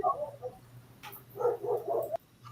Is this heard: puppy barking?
yes